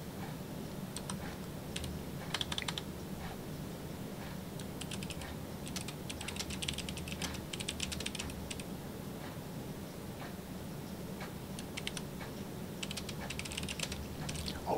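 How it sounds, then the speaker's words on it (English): Rapid clicky keystrokes on a replacement Atari XE keyboard patter in uneven bursts and pauses, close and crisp over a soft steady background hum. "I'll shut up and let you listen to this nice ASMR keyboard"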